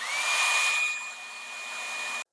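A hair dryer blowing on freshly painted gray weathering on a model, a loud steady whine close up that dips slightly halfway through, then cuts off abruptly.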